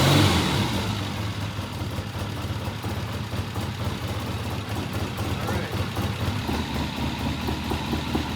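A Triumph TR6 engine idling steadily in a shop, a smooth continuous rumble holding even and close throughout, with people talking over it.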